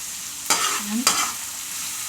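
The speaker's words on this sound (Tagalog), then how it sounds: "Haluin natin." Tilapia picadillo seasoned with pepper and being stirred in a pan: a steady sizzle punctuated by three sharp spatula scrapes against the metal, close and clear, with no talking.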